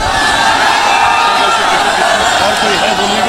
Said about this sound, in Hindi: उनका खैर मकदम करिए ताली बजाकर